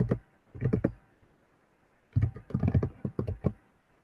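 Rapid bursts of computer keyboard typing enter Linux commands, two clusters of crisp close key clicks separated by a brief pause, with no talk.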